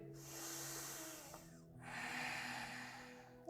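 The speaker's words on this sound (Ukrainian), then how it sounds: "І заключний глибокий вдих." Slow, deep breaths during a morning yoga session on a mat: a long, airy inhale followed by a second breath, soft and close.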